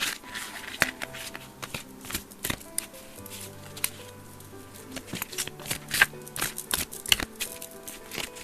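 Tarot and oracle cards are shuffled close by, a busy stream of crisp flicks and slaps that grows denser toward the end, with faint background tones and no talk.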